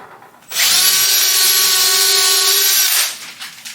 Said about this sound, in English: Let's go ahead and drill our pilot holes with our template.